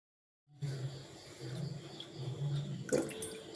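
After a brief silence, strained tea water pours and trickles into a vessel, a splashing stream of liquid for about three seconds, with a brighter spatter near the end as lemon juice is added.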